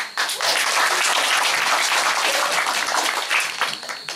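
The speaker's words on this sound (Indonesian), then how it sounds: "aplaus dulu" An audience bursts into sustained, loud applause at a talk on the book Dari Allah Menuju Allah, dense clapping filling the room for several seconds before tapering off.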